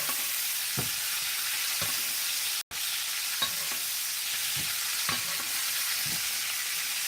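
A steak sears in a pan while being basted with butter, giving a steady close-up sizzle with soft periodic spoon scrapes and splashes, broken by one brief dropout.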